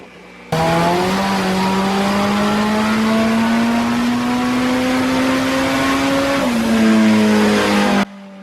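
A forged Toyota 5EFE engine with boost revs hard on a dyno power run, its loud, continuous note climbing steadily for several seconds before a brief dip and a final surge, then cutting off.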